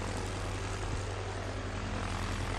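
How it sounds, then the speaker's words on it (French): An old propeller airplane's engine drones steadily as it powers up for takeoff, a continuous low rumble with a faint whirring propeller, moderately close and unbroken, with no voices. "Le moteur poussa au décollage et l'hélice se mit à tournoyer lentement"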